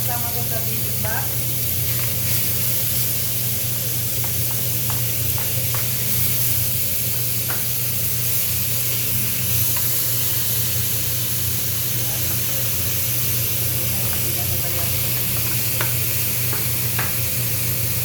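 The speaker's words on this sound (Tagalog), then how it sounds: "mainit na yung kawali ko guys. Maglalagay tayo ng beef." Beef sizzling in a hot pan with sesame oil, cooked as part of bibimbap; a steady loud frying hiss runs throughout with occasional stirring clicks, while a low hum sits underneath.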